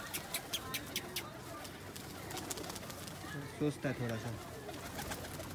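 Caged pigeons give a few low, soft coos midway through, faint against a noisy background while someone talks over them.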